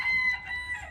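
A rooster crows once from a backyard chicken coop, a short, bright call that sounds fairly close and stands alone with no talking.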